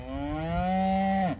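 A single cow on a silvopasture farm gives one long, steady moo, close and clear, ending with a short downward drop.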